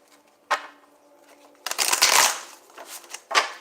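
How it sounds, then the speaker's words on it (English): A deck of tarot cards being shuffled by hand: a quick riffle, then a longer burst of flicking and sliding cards followed by a few short taps, close and clear with no talking. "let us real quickly shuffle that out"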